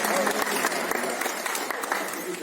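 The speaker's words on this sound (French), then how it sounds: "Applaudissez pour ces jeunes Villeurbanne" An audience applauds young futsal players from Villeurbanne at a tribute event, a dense, continuous wash of clapping mixed with crowd murmur throughout.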